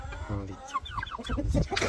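A large rooster clucks in a rapid series of short calls, close and fairly loud, with other backyard chickens audible around it.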